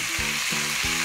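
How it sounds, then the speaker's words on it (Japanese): Cabbage and meat fry over high heat in a pan, a steady close sizzle broken by a few soft stirring knocks. "キャベツをしっかり焼いていきます"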